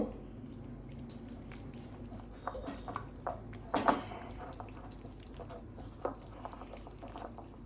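Water poured in small amounts into a thin batter for a chatpata prawn chaat, heard as faint, soft drips and wet squishing splashes with a brief louder burst in the middle over a quiet kitchen background.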